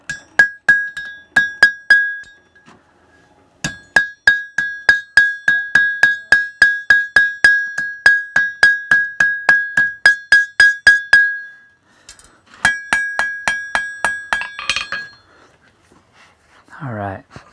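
Blacksmith's hammer striking hot metal on an anvil, a long run of sharp ringing blows at a steady rhythm, pausing briefly before another burst, close and clear with little else.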